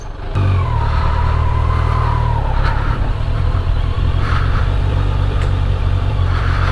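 A motorbike engine starts up and pulls away on a ride toward Marthandam, revving steadily and loud throughout with rising engine pitch and steady road noise.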